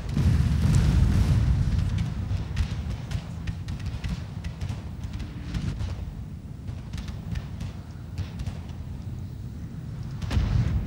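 Artillery fire rumbles through a video game battle between France and Mamluk rebels, with repeated deep booms and distant blasts rolling on continuously without talk.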